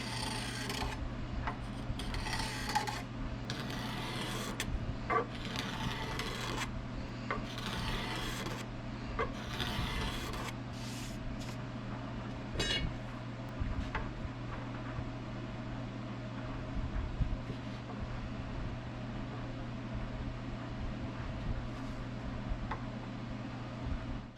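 A wooden guitar neck for a brass resonator build is whittled down, giving steady rasping, scraping strokes close by, with brisk repeated bursts early on that settle into a continuous rough rubbing.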